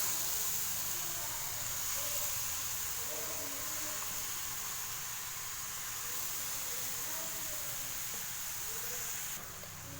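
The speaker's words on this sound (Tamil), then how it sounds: "நெய்யில் பார்த்தீங்கன்னா கேரட் வதக்கிட்டு இருக்க பாருங்கள்" Grated carrot sizzling in hot ghee in a pan, a steady broadband hiss of frying that runs continuously and evenly, fairly close, with no talk over it.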